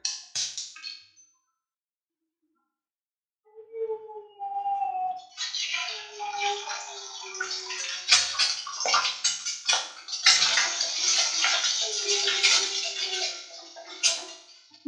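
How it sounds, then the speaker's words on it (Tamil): A single egg cracked into hot oil in a kadai sizzles loudly and continuously after a quiet start, with faint whistling tones running underneath. "முட்டை நல்லாவே ஃப்ரை ஆகணும், நல்லாவே வறுத்துக்கோங்க."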